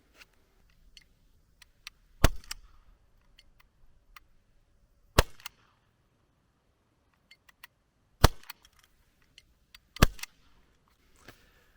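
A Gamo PT-80 Desert Attack air pistol fires 0.23-gram polymer and steel pellets: four sharp, loud snapping shots spaced a few seconds apart in a quiet room, with faint handling clicks between them.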